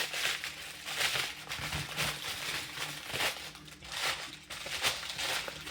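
Continuous crinkling and crumpling of parchment paper, close by, a dense crackly rustle that swells and fades in waves without pause.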